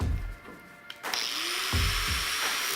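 A stainless steel wire wheel on a power tool spins up with a loud, steady whine and harsh scouring grind against metal on a Jeep Wrangler, starting abruptly after about a second and continuing close and constant.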